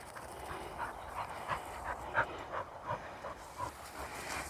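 Several dogs pant rhythmically during a riverside walk along the Heart of England Way, with quick repeated breaths close to the microphone over a soft outdoor background.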